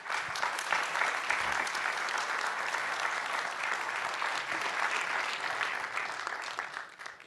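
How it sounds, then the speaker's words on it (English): Steady audience applause for the panelists at the close of a conference session on the e-mobility transition, a dense, even clatter of many hands that holds for about seven seconds before tapering slightly at the end. "let's have a round of applause for our panelists"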